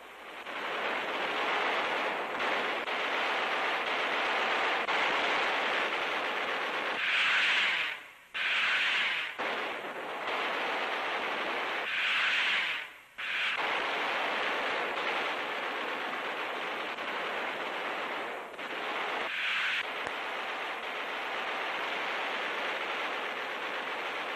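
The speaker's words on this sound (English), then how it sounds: "This is a sample of the terrific barrage now being hurled skyward to meet the enemy's raiders." A wartime anti-aircraft gun barrage fired skyward at enemy raiders, heard as a continuous dense roar of distant rapid gunfire with a few stronger swells and brief dips, steady throughout with no voices.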